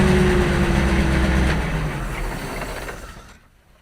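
An old Chrysler 400 V8 in an International 7800 truck idles with a low, steady rumble and faint whine, close by, then shuts off and winds down to silence near the end.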